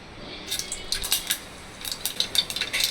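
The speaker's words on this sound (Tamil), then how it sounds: "கடுகு பொரிஞ்சிடுச்சு" Mustard seeds splutter in hot sesame oil in a kadai while small-onion kulambu is being made, giving scattered sharp, close crackling pops over a faint steady sizzle.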